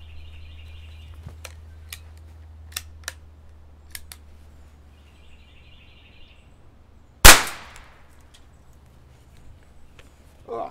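A single sharp .22 long rifle shot strikes a concrete block outdoors, one loud crack with a brief ringing decay, preceded by a few faint ticks and clicks over a low steady hum.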